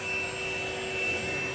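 Steady motor whine and suction from a Perysmith XP6 cordless stick vacuum picking up human hair, running at a constant level close by with no talking.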